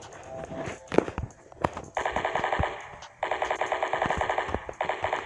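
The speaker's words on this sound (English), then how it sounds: "I shot this guy like 50 times with the hit!" Rapid automatic gunfire from a Squad Strike 3 first-person shooter match, loud repeated bursts of evenly spaced shots with a short pause between, mixed with a few sharp single impacts.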